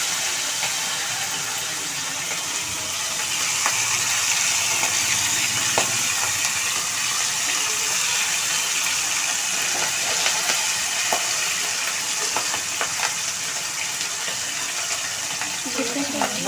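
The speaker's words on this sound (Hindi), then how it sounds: "अब हम एक एक पीस इसमें डालेंगे और तेज़ आंच पर इसे फ्राई करेंगे।" Chicken wing pieces frying one by one in hot oil over a high flame give a steady, close, broadband sizzle and hiss that continues throughout, with a few faint crackles.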